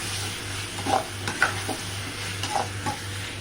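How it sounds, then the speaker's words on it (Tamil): Tomatoes and onions sauté in a pan with a continuous moderate sizzle, punctuated by a few light clinks of stirring against the pan. "பாருங்க, தக்காளி வெங்காயம் வதங்கிட்டுருக்கேன்."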